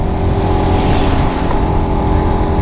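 A Suzuki Satria FU fuel-injected motorcycle engine pulling up a gentle incline in high gear, a loud, steady, close droning roar that holds constant throughout with no voices.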